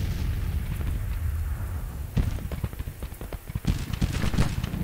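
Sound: artillery fire from video game Grand Tactician Civil War

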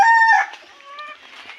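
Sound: chickens and rooster clucking

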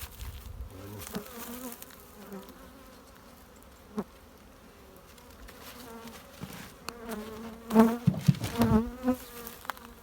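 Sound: honey bees buzzing

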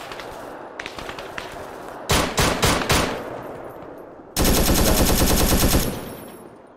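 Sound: gunfire in the video game Arma 3

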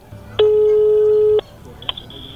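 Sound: telephone ringing while calling someone

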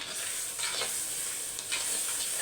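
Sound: turkey berries frying and being stirred in a pan

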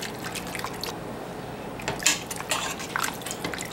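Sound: cooking water from tripe being poured into a pot

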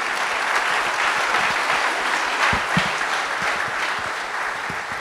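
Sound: audience applause after a talk

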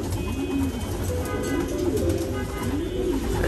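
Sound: pigeons cooing in a racing pigeon loft

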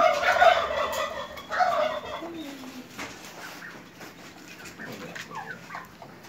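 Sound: turkeys gobbling

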